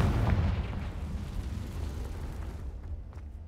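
A Confringo fire spell bursts in Hogwarts Legacy, a loud, dense booming blast that rumbles on and slowly fades over a few seconds, with no talk.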